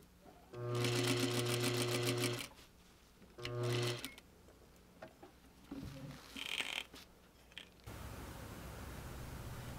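A sewing machine stitches a casing for corset boning, running in two loud bursts of rapid even stitching, the first about two seconds long and the second shorter, followed by quieter handling and rustling noises.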